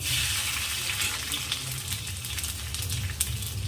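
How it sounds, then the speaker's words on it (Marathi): Sliced garlic frying in hot oil for a green chilli fry, a steady close sizzle with soft crackling pops and no talk. "तेल तापाला ठेवलं आहे त्यामध्ये आधी आपण लसूण ॲड करू"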